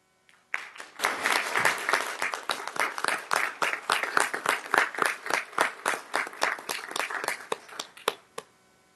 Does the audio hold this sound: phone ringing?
no